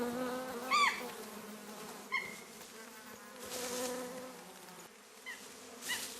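Angry bees swarming around a wild bees' nest while chimpanzees try for the honey deep inside, a dense, steady buzzing hum rising and falling throughout, with brief sharper squeaky calls cutting in near the start.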